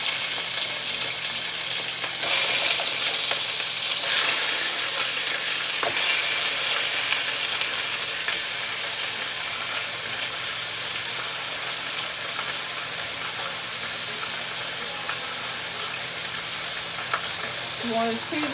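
Plain pork chops fry in a pan with a loud, constant hissing sizzle that swells early on and then holds steady, with faint scattered pops and a brief clink at the end.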